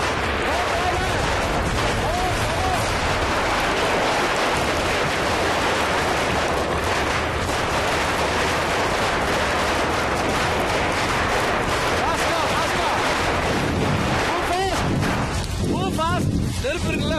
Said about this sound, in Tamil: பட்டாசு வெடிக்கும்,